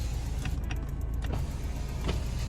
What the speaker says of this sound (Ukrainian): Всі вікна у нас йдуть із доводчиками.